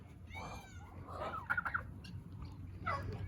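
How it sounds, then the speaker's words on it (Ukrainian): Turkeys gobble in bursts of rapid warbling calls, fairly close, over a low background rumble, with a louder cluster in the middle and another near the end. "Індики"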